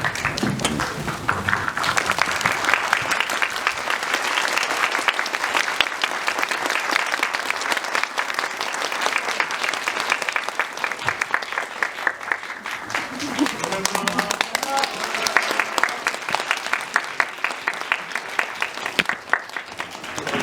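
A standing audience at a film screening applauds the director and two actors with dense, continuous clapping that holds steady throughout, with faint voices underneath.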